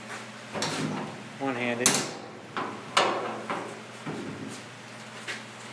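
Latches on the lid of an M101 trailer are worked by hand, giving a handful of sharp metallic clacks and clicks at uneven intervals, close by, with someone speaking briefly between them.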